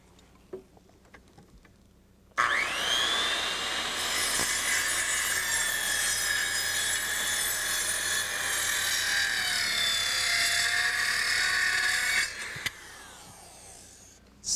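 A power saw spins up sharply and cuts a 22.5-degree miter in deck lumber, holding a loud, sustained whine with a slight pitch dip for about ten seconds before winding down, with no talk over it.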